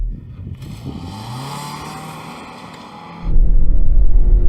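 Ford Kuga engine revved while held on the brake in sport mode, a rising whine that climbs in pitch, then drops into a loud, low, rumbling roar close by.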